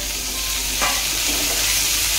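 Tomatoes sauté in a hot pan for a dry cluster bean curry, giving a steady, close, broadband sizzle with a brief stirring scrape partway through and no voices.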